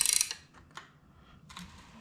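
A ratchet clicks rapidly in a short burst while tightening bolts on a rebuilt big block engine for a 1967 Chevy, followed by a few quieter mechanical clicks and a metallic scrape nearby.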